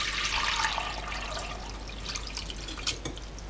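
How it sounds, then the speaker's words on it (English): Nettle infusion is poured through a fine sieve into a bowl, giving a continuous close splashing and trickling of liquid with a few drips near the end. "and then just pour it through into a bowl."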